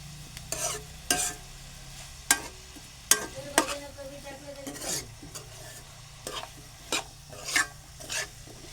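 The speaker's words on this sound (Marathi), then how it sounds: "कांदा चांगला परतून घ्यायचा." Onions sautéing in a pan for a fenugreek vegetable dish, a low steady sizzle broken by repeated close scrapes and clacks of a spoon stirring at an uneven rhythm.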